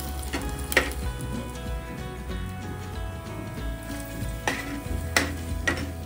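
Garlic sizzles and fries in a pan while a utensil stirs and scrapes it, with a few sharper clinks against the pan, close and steady throughout.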